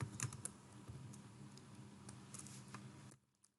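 Rapid typing on a computer keyboard, a quiet, close patter of key clicks in quick bursts that stops abruptly near the end, leaving near silence.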